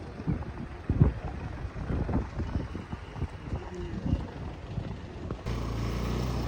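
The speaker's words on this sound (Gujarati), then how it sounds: "જોરદાર ઠંડો પવન છે." Strong cold wind buffets the microphone outdoors near Gangeswar Mahadev temple in Diu, a gusty low rumble with uneven surges that settles into a steadier roar toward the end.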